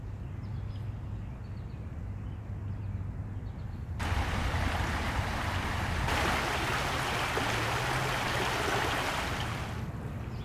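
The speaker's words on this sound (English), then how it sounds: "This is the West Highland Creek" Flowing water of the West Highland Creek in a Scarborough park in spring, a steady broadband rush that swells louder midway and stays continuous, with no voices.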